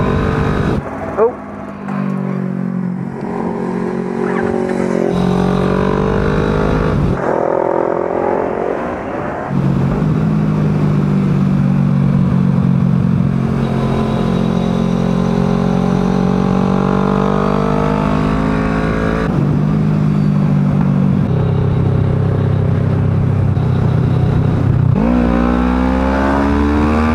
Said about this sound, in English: You may have hit the red line a tiny touch, and it was making quite a lot of noise